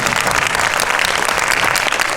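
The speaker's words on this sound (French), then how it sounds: "ceux-là vous pouvez vraiment les applaudir" Audience applause before a film screening with the film crew present, a dense continuous patter of many hands clapping, loud and even from start to finish.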